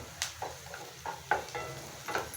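Garlic and curry leaves frying in a pan for a ladies finger (okra) palya, with soft sizzling and a few brief stirring scrapes at a steady close-up level, no talk.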